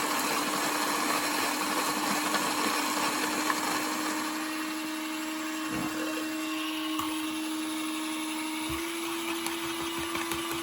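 A coffee grinder grinds whole beans for pour-over coffee in one continuous high whirring drone that stays steady and close throughout, with no talk.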